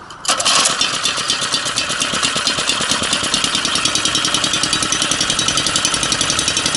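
A small homemade mini bike engine idling slightly low, a loud, close, rapid steady putter that settles into an even beat right after it catches.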